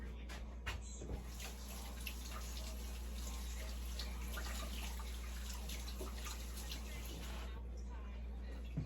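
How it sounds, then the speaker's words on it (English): Tap water runs steadily into a sink during handwashing, a faint continuous splashing with a few brief knocks and a low background hum. "Let me wash my hands."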